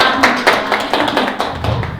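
An audience applauding at the end of a lecture, a brisk run of many overlapping hand claps at close range, steady and fairly loud throughout.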